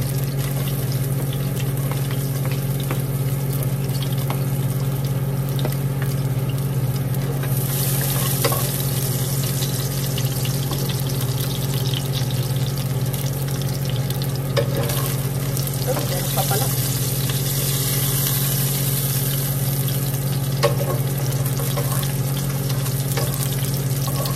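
Garlic sautéing in a pan, with a steady close sizzle and hiss throughout and occasional stirring scrapes and clinks over a low constant hum.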